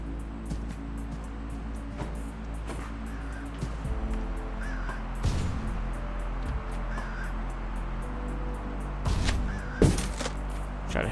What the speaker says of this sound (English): Try to hit that bird from here.